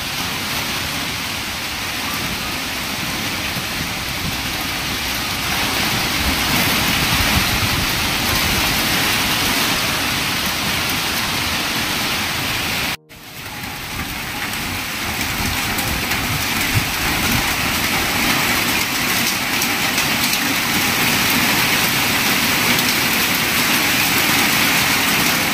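Heavy rain pours down steadily in a dense, continuous hiss, loud and close with no break except a momentary dropout midway; no one speaks over it.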